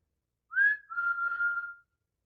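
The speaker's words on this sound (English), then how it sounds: "we hear someone whistle from off stage" Person whistling from off stage: a single clear whistle, a short rising note sliding into a longer held tone, moderately loud and alone against silence.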